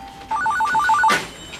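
An office telephone in a police detective squad room rings in a quick trilling electronic burst, loud and close, with no voices over it, then cuts off abruptly.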